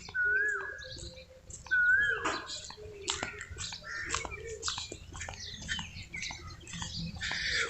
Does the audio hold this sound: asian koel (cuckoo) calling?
yes